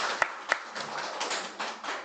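A church congregation gives a short round of clapping during Sunday worship: two sharp claps, then a loose, uneven patter of hands at moderate loudness.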